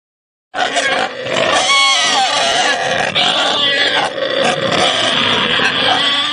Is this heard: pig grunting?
yes